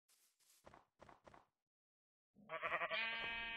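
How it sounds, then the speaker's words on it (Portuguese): In Minecraft PlayStation 3 Edition, a few soft footstep thuds give way to a loud, close, wavering sheep bleat in the open countryside. "Tem vaca, ovelha, bastante ovelha aqui."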